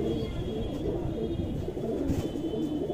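A Madrasi pigeon, a young female, gives low, repeated cooing over a constant murmur of background noise.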